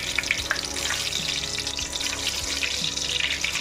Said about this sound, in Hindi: अब इस तरह से हम मिर्ची को भूनेंगे।